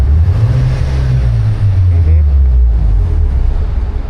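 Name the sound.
street racing car engine revving before shutdown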